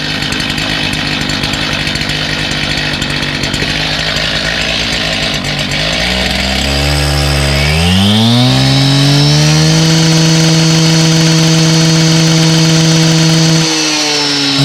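A Stihl TS400 gas cut-off saw for concrete, recently cleared of clogging fine dust, runs loud and close, first at a rough idle and then revving up into a steady high-pitched, sustained whine.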